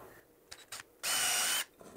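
A drill bores a shallow starter hole into wood in a workshop. A couple of faint clicks come first, then a steady whirring burst of about half a second, close and moderately loud, with no talking.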